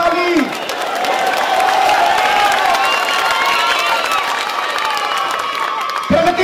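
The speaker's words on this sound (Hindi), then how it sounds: "ठोको ताली, ठोको ताली।" Crowd at a BJP election campaign rally in Ahmedabad, Gujarat, applauding and cheering loudly and steadily, with whoops and shouts rising over continuous clapping throughout.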